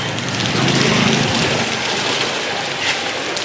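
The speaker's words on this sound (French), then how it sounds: "Une pluie s'abat sur Katmandou." Heavy downpour over Kathmandu, a steady dense hiss of rain on surfaces lasting throughout, loud and close with a slight low rumble beneath.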